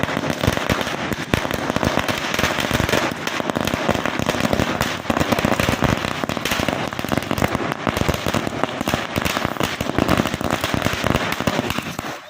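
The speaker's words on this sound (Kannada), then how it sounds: "ಕರವೇ ಹರೀಶ್ ಆಯ್ಕೆಯಾಗಿದ್ದಕ್ಕಾಗಿ ಕರವೇ ಕಾರ್ಯಕರ್ತರು ಪಟಾಕಿ ಸಿಡಿಸಿ ಸಿಹಿ ಹಂಚಿ ಸಂಭ್ರಮಿಸಿದರು" Strings of firecrackers burst nonstop at a street celebration outside an office on a town road in Bagepalli, a loud dense crackling barrage of rapid sharp pops that fills the whole stretch.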